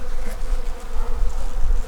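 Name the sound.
honey bees buzzing at an opened hive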